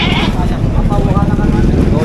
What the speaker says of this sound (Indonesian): Kaget gue, ada kambing.